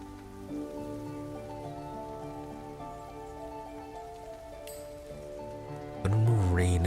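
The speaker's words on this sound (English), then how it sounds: "I'm gonna remove rain and get it turned to oil." Steady light rain falls in the video game Divinity: Original Sin 2, a soft continuous patter under a layered musical drone, ending with a louder low thud.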